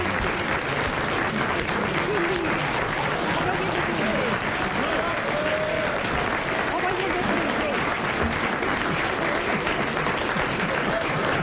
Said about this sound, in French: Il mérite qu'on l'applaudisse